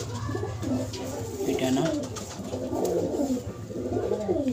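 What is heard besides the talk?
pigeons cooing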